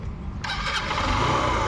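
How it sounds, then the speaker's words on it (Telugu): A used single-owner motorcycle engine starts up at about 0.4 seconds, catching easily and settling into a steady, close, fairly loud idle with no talking over it. "ఇక ఇంజన్ కూడా స్టార్ట్ చేస్తా, చూడండి."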